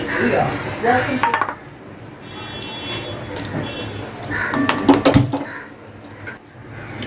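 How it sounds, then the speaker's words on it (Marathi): Semolina dry-roasting in a pan for prasad shira, with a metal spoon clinking and scraping against the pan in irregular bursts and quieter stretches between. "सर्वात पहिला रवा आपण भाजून घेऊया"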